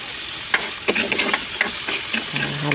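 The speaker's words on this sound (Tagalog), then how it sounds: "Iprito muna natin yung patatas at saka yung carrots." Potatoes and carrots frying in a pan, a steady close sizzle with a series of light scraping and clacking stirring strokes spread irregularly across it.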